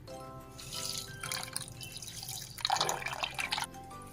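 Fish roe being rinsed under running water in a kitchen, with dripping and trickling splashes in irregular bursts, louder and denser near the end.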